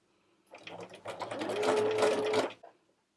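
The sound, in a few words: sewing machine sewing a narrow hem with hem foot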